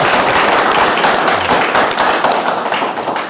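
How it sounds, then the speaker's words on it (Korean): An audience at a political campaign talk event gives a loud, dense round of encouraging applause, steady sustained clapping close by with no talk over it. "고생했다고 격려의 박수 한번 보내요."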